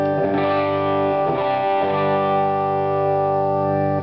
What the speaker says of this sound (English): change the settings to more of a clean boost type setting. Gain down, level up.